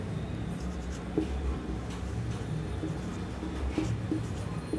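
Chalk or marker scratches and taps on a board during a class on metals and non-metals, soft, intermittent strokes over quiet room noise.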